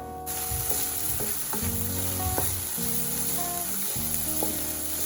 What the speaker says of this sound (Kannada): ಎಲ್ಲನೂ ಸೇರಿಸಿ ನೀಟಾಗಿ ಮಿಕ್ಸ್ ಮಾಡಿ, ಉಪ್ಪು ಎಲ್ಲ ಕಡೆ ಹರಡೋ ಥರ